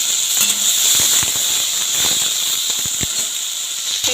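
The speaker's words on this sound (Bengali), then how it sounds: "তেলটা আমার গরম হয়ে গেছে, প্রথমে গাজরটা দিয়ে দিলাম" Carrots and other chopped vegetables drop into hot oil in a pan, giving a bright, steady sizzle with scattered crackles and pops throughout.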